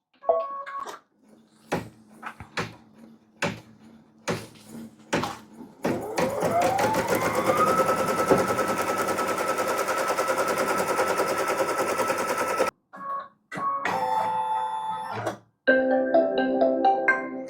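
An embroidery machine sews a placement stitch on an in-the-hoop quilt block, starting with a few sharp clacks before settling into a fast, steady mechanical stitching rattle at close range, then stopping and restarting in short bursts.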